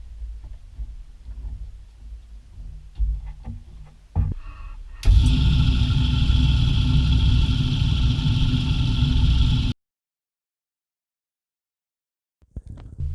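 A restored 1920s IXL lathe runs with a steady, loud mechanical drone that starts abruptly, holds for several seconds and then cuts off, preceded by clattering workshop handling noises.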